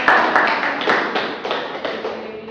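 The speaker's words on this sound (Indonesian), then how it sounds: "Tepuk tangan bagi anak." Children clapping together in a classroom, a ragged burst of hand claps close by with a few sharper taps standing out, mixed with faint voices.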